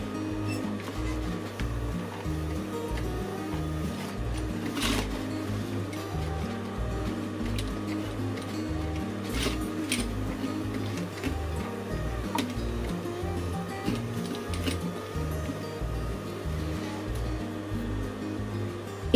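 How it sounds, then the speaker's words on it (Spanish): Sewing machine slowly stitching through a thick denim jeans seam, its hand wheel turned manually, giving a steady rhythmic mechanical ticking and thumping that runs continuously and close up throughout. "hay que darle la ruleta de la máquina para que vaya pasando"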